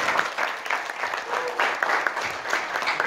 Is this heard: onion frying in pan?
no